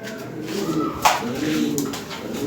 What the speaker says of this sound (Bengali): সমস্যা নেই, হাই কোয়ালিটি কবুতরগুলো